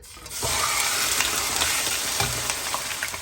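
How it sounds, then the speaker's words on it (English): Chicken drops into hot oil in a pan for a quick soy sauce dinner, and after a brief quiet moment a loud, steady sizzle and hiss rises and keeps going with no voices. "So in the pan I'll add some oil. To this I'll add in my chicken."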